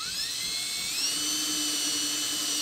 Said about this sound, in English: So I'm gonna drill a test hole and see what happens.